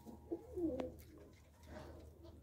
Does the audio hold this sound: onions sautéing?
no